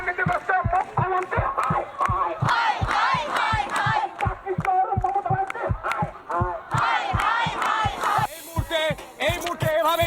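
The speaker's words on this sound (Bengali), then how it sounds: "এই মুহূর্তে সেই ছবি এসএসসি ভবনের সামনে চাকরি আনা শিক্ষকরা তারা স্লোগান দিচ্ছেন" A crowd of protesting teachers who lost their jobs chants slogans in loud unison in front of the SSC building, with a steady pounding rhythm of drumbeats or claps under the rising and falling voices.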